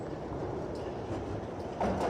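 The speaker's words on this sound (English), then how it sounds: "a few minutes later her train rattled into the station." An underground train rattles into a station, a steady loud rumble and clatter of rail noise filling the whole stretch, swelling slightly near the end.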